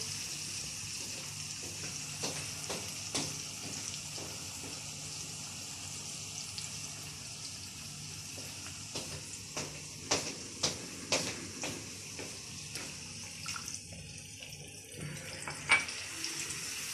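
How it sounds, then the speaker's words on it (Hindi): Water is poured into a pan of tomato paste and spices while cooking sour potatoes, a soft, steady running splash with a few light clinks of utensils, fairly quiet and close. "अब मैं इसके अंदर थोड़ा सा पानी डालूंगी।"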